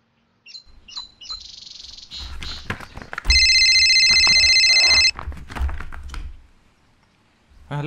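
A bright electronic phone ring sounds loudly for about two seconds amid chirpy tones and clattering noise.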